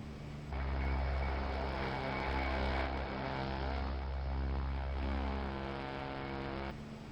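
Steady droning turboprop engine of an OV-10 aircraft taxiing in a flight simulator, a loud continuous hum with layered tones that holds for several seconds before cutting off.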